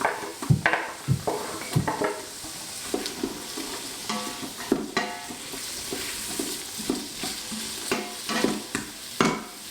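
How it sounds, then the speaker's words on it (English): Carrots tipped into an Instant Pot for chicken soup and stirred, with irregular scraping and knocking of a utensil against the pot over a soft sizzle, close and unaccompanied by talk. "we're gonna add the carrots as well."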